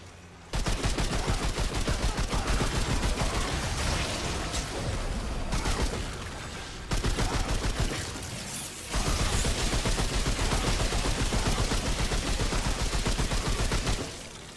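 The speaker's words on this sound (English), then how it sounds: "This black maw auto rifle runs out of bullets fast." Sustained automatic fire from the Black Maw auto rifle in Remnant 2, a dense rapid stream of shots in three long bursts with brief pauses between, loud and close.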